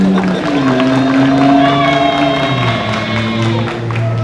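Large outdoor rally crowd cheering and shouting loudly throughout, a sustained roar of voices with whoops and some scattered clapping mixed in.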